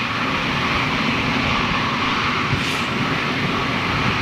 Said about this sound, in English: This is a beautiful aircraft.